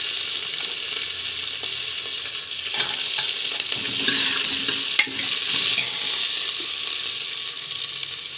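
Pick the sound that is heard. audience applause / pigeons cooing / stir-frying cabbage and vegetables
stir-frying cabbage and vegetables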